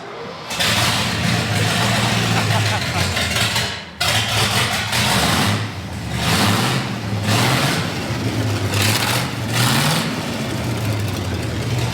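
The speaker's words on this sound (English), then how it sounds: "that's what a big block sounds like open-headered" A big block truck engine running with open headers idles loudly and roughly close by, its throbbing rumble broken by several sharp revs and a brief dip before rising again.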